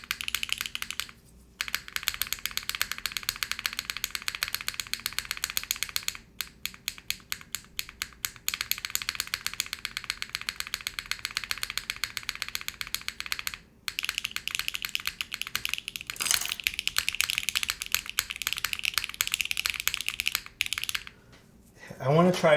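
Rapid, continuous typing clacks from a mechanical keyboard fitted with GMK keycaps, close and crisp with a few short pauses, while a person talks over it at times.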